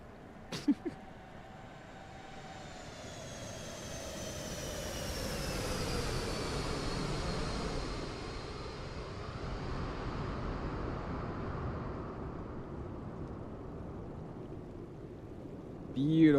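A Boeing 737 MAX in Microsoft Flight Simulator roars with a broad jet-engine rush and a faint high whine, swelling as it passes low over trees, then holding a steady, moderately loud drone.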